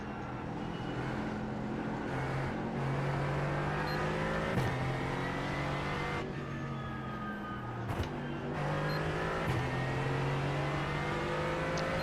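Race car engine in a NASCAR Truck Series racing game at Kansas, revving and shifting through gears with rising and falling pitch sweeps, loud and continuous with other cars passing nearby.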